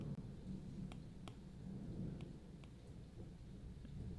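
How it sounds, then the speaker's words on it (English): Steady rain falls outside as a dense, continuous hiss with a few faint scattered drips or taps, heard alone without talk. "sorry for all the background noise of the rain"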